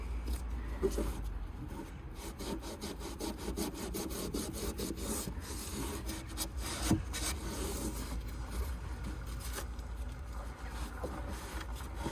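Scrubbing corrosion off the battery area of a Mercedes CLK230 W208 makes a rapid, scratchy back-and-forth rubbing, quiet and close, with irregular strokes over a low background rumble.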